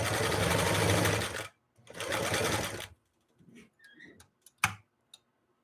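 A Singer 328K sewing machine runs a zigzag stitch in two steady, loud bursts, then falls quiet apart from a few light mechanical clicks and a sharp tap.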